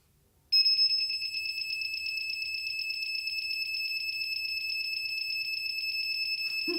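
Electronic heat press timer beeping during sublimation printing, a steady rapid high-pitched tone pattern that starts abruptly and repeats continuously, loud and close, alone without talk.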